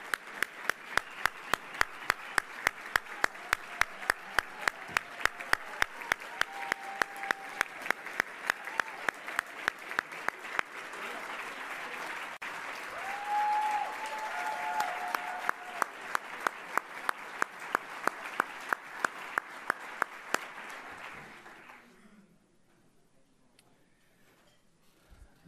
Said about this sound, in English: Another big round of applause from the students